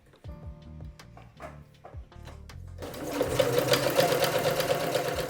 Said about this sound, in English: we're going to understitch the seam allowance to the under collar as close as possible to the seam